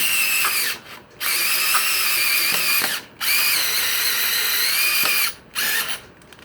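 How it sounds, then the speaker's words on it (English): A power drill drives a metal roofing screw through wire into a bracket, giving long steady whines broken by short pauses and brief ratcheting bursts, close and loud with no talk. "Then I just get a metal or a wood screw that gets used for roofing,"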